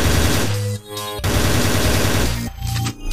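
Loud, rapid machine-gun bursts from a video game fire almost continuously, broken by a few short pauses between volleys.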